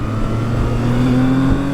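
Zontes 703 F motorcycle in sport mode gives a steady low engine note that climbs gradually in pitch as it accelerates, close and continuous, with no talk.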